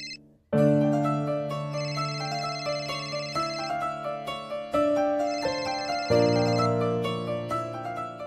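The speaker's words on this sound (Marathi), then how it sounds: "फोन उचल" A phone ringtone plays a loud, bright electronic melody in repeated phrases, ringing continuously through the whole stretch in an indoor scene from a Marathi TV serial.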